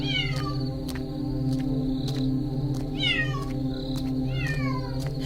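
A cat meows repeatedly at night in high, wavering cries over a steady low hum, with soft regular ticking throughout, in a Bangla cartoon.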